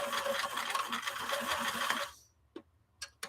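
A sewing machine stitches in short, even bursts while a small owl appliqué's tiny curves are sewn, running for about two seconds before stopping, followed by a few faint clicks.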